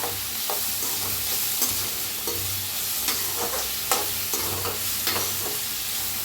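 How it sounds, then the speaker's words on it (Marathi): Onion and chili roasting in a pan for egg fried rice, a steady close sizzle broken by repeated scraping stirs of a spatula, with a low hum underneath and no talking. "ह्याच्यात टाकूया मिरची बी आणि चांगलं भाजून घेऊया कांद्याला मिरचीला"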